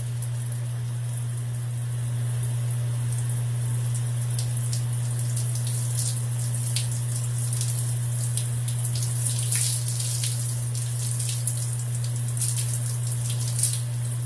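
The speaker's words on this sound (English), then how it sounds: "So I'm just going to rinse this out." Running water rinsing natural cleanser out of curly hair, a steady splashing stream over a constant low hum, with scattered drips and no talking.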